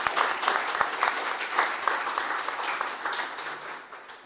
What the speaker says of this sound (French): bravo à tous, on peut vous applaudir.